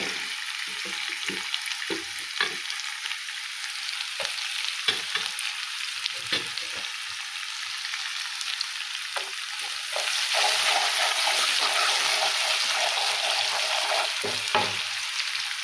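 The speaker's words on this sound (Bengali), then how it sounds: "এই যে বাকি তেলটা রয়েছে এর মধ্যে আমি এবার কিছুটা 5 ফোড়ন দেবো।" Panch phoron and chopped onion fry in hot oil for a begun sundori dish, a continuous bright crackling sizzle with occasional stirring knocks, growing slightly louder partway through.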